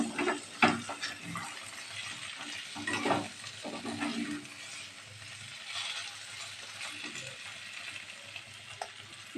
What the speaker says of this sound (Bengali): সবজিগুলো যেগুলো আগে ভেজে রেখেছিলাম ওগুলো দিয়ে দিচ্ছি। একটুখানি নাড়িয়ে নেব।